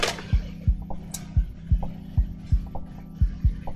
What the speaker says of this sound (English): Oh gosh, this printer is fucking up.